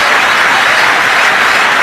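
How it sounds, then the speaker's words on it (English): A cricket stadium crowd on its feet applauds in a thick, loud, continuous burst of clapping with no pause. "Let's just dwell on the applause that this young man is going to get."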